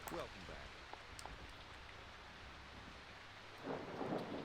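Thunderstorm weather in the Jurassic Park: Operation Genesis video game: a low rumbling wash of rain and wind, with a swelling thunder rumble near the end, moderately quiet and continuous.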